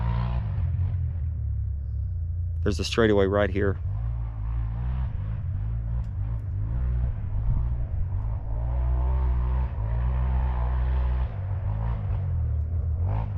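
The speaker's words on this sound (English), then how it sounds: "and then I want to listen to the quad here." Quad ATV on a trail straightaway during shock testing before a GNCC race, its engine rumbling and revving steadily at a distance for over ten seconds, with someone talking over it and a brief high squeal early on.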